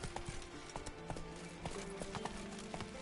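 Horse hooves galloping in the video game Witcher 3, a quiet, quick, even run of clip-clop beats that keeps going throughout, with no talk.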